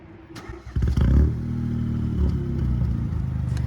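A Renault Clio IV 0.9 TCe with a new exhaust cranks and fires, rising to a brief rev before settling into a close, steady idle with a light rhythmic burble.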